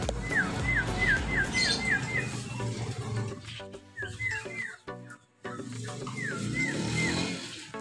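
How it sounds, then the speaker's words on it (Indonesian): A white-rumped shama sings rich, varied whistled phrases in repeated bursts at a bird market, fairly close, with a short pause midway before the song resumes. "ini ada murai batu lagi"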